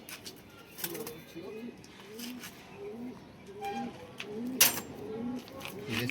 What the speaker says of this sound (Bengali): এই কবুতরটা আসলে লাল গিয়ারের কবুতর, খুব পুরান জাতের, এটা পাঙ্খি কবুতর।